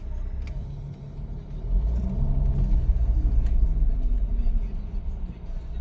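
A Jeep Grand Cherokee WK engine rumbles low and steady while driving in 4x4 low range with traction control off, growing louder and heavier after a couple of seconds and holding a continuous deep drone.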